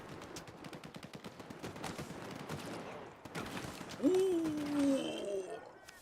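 Video game gunfire rattles in rapid bursts in quick succession, then a sharper ringing, whining tone cuts in over the shooting; a voice speaks briefly.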